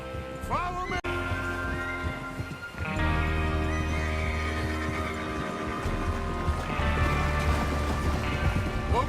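A horse whinnies loudly near the start in Red Dead Redemption 2, then a steady rumble of galloping hooves and movement carries on, with a low hum underneath.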